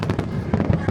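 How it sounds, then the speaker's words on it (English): Nagaoka Phoenix Fireworks at the Nagaoka festival in Japan, a dense, continuous rumble of bursts and crackle with several sharper peaks, loud and sustained throughout the short stretch. "The Phoenix Fireworks."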